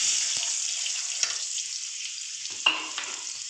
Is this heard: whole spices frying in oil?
yes